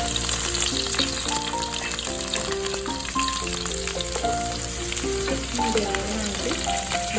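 Ginger, garlic and green chilli sauté in hot oil for a Kochi-style fish pada curry, a loud, unbroken sizzle running under steady melodic background music.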